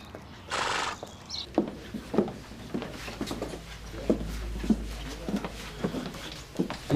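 Hooves of a horse clip-clop in an uneven walking rhythm as it is led back toward the stables, close and fairly loud, with a brief burst of noise near the start.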